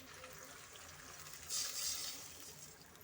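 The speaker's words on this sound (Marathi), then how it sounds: "मसाला चांगला झाला आहे त्याच्यात आपण आता पाणी सोडू थोडंसं" Water pours briefly into a cooking kadhi masala in a pan, a short hissing splash that rises and fades over a low kitchen hum.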